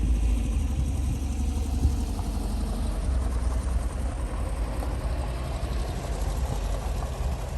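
A 1974 Porsche 914 engine rumbles steadily and fairly loudly as the car pulls away, a dense low drone that holds even for the whole stretch without voices.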